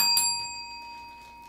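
A small hand bell rung once during a live Native jewelry sale, a bright close ding whose steady ringing tone slowly decays over more than a second, with no talk over it.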